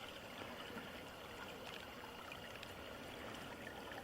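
Clear-water brook at Centerville Creek rippling past a log, a faint, steady trickling wash with no pauses, heard alone.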